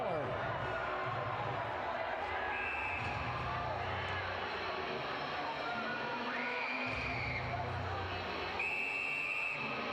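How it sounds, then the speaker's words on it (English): Several sharp referee whistle blasts ring out over a steady arena crowd roar and commentary at a pro ice hockey game, Danbury Hat Tricks at Binghamton Black Bears, late third period. "a lot of whistles being blown."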